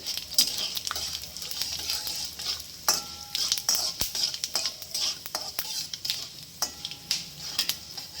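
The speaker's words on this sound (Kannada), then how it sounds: "ಈಗ ಇದೆಲ್ಲ ತೊಗೊಂಡಿರೋಂಥ ಮಸಾಲೆ ಇದು ಇಂಗ್ರೀಡಿಯೆಂಟ್ಸ್ ಎಲ್ಲ ಇದಕ್ಕೆ ಹಾಕೋಣ ನೋಡಿ ಇದು ಚೆನ್ನಾಗಿ ಫ್ರೈ ಆಗಲಿ" Masala ingredients fry and sizzle in a pan for lemon chutney, with repeated metallic scrapes and taps of a spoon stirring against the pan over a soft background hiss.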